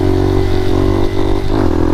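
A motorcycle engine revs hard and steadily up through the gears in a wheelie run on a public road. A loud, close, buzzing drone holds with a brief dip and a change in pitch at a shift.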